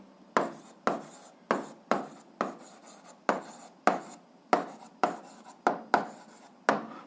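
Pen or pencil writing down the answer to an 8th-grade algebra word problem, heard as about a dozen crisp, evenly paced strokes, close and clear, with no talking.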